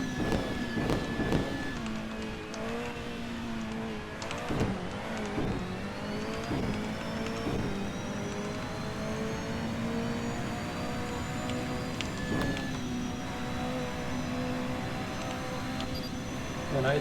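Engine of a front-wheel-drive car in a racing video game, revving and shifting through rising and falling pitch sweeps with sharp gear-change breaks, steady and loud throughout with occasional faint talk.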